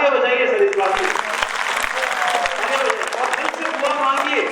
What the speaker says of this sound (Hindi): तालियां बजाइए सर इस बात की